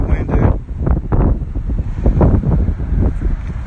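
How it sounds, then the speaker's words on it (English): Strong wind buffets an outdoor microphone in gusty, rumbling bursts, with a voice talking over it. "Yeah, there's tons of wind"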